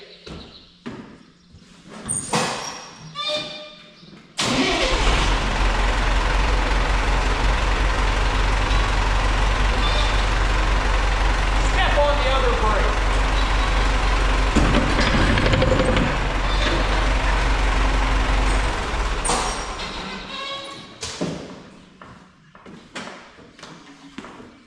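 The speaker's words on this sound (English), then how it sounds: "start it up, put it in low gear" An Allis-Chalmers 6080 tractor's engine cranks, catches and runs at a loud, steady idle in low gear for about fifteen seconds before shutting down, with clanks and handling noises before and after.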